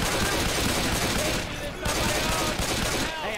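Dense, continuous rapid gunfire from a Star Wars shooter game, loud and sustained with overlapping bursts and brief dips, heard without speech.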